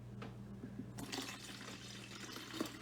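Water is poured into a jar for a drink: a faint, continuous splashing trickle starts about a second in and carries on steadily over a low background hum.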